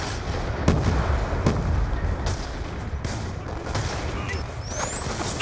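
Grenade blasts and gunfire from a Black Ops 2 team deathmatch, loud and close, with repeated booming impacts and scattered shots over a continuous battle rumble, ending with rising whistling tones.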